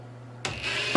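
Vice grip pliers tighten a bolt on a reloading bench, giving a sudden loud burst of scraping mechanical clicks and grinding after a quiet hum, ending in a brief louder snap.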